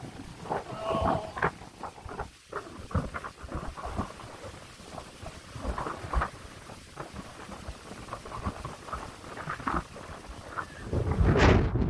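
Storm wind with hail lashing down in Brittany, a loud, continuous gusting roar broken by dense crackling impacts and sharp bursts, rising into a heavier blast at the very end.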